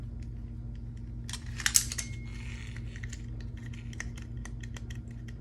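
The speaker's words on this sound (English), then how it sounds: "All buttons are clicking as they should." Buttons and trim pieces in a Saab 9-3 interior being pressed and snapped together, giving a series of small, sharp plastic clicks, some spaced and some in quick bursts, over a steady low hum.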